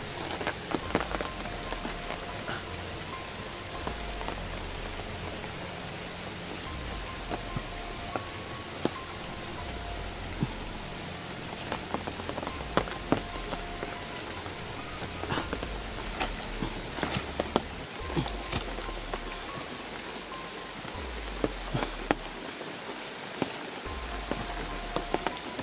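Rain patters steadily on a slick outdoor surface, a constant wash of drops with scattered sharper taps and occasional footsteps, fairly close and moderately loud.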